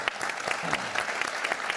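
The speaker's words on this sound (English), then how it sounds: "A round of applause." Brief audience applause at an evening event on the Wisconsin Supreme Court election, dense clapping from a crowd with individual claps standing out, no talk.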